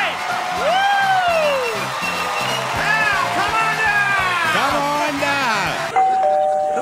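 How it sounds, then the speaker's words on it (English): A ding-dong doorbell chime rings out over a loud, busy mix of music and crowd noise, with bright sweeping tones throughout. "Doorbell?"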